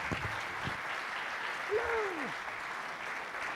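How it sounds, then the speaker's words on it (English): A conference audience applauds a keynote speaker, with dense, even clapping from a large crowd holding steady throughout. "Everybody give a big warm round of applause to Monty Taylor."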